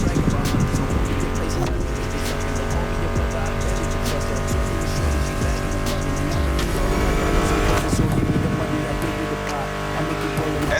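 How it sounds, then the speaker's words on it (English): Racing car engines in The Crew Motorfest roar continuously at close range, with revving, gear changes and occasional tire squeal over a steady music track. "Meshes well with the sound of the engines, you feel me?"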